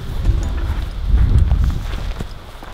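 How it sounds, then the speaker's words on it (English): Small horses walk nearby in an outdoor field, their hooves clip-clopping in a steady, fairly close rhythm with dull thuds over light background noise. "Look at the tiny horses."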